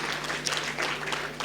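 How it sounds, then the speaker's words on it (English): Short burst of audience applause for Kathy Bell at a Women in Transport summit, a steady wash of many hands clapping at moderate level with a low electrical hum underneath. "Can we please give her a round of applause?"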